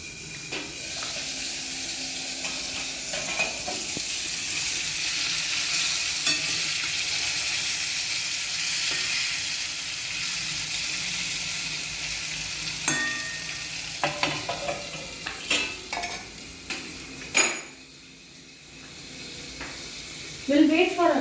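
Pumpkin (kaddu) slices fry in hot oil in a kadhai, giving a steady, bright sizzling hiss that fades toward the end and is broken by a few clattering knocks.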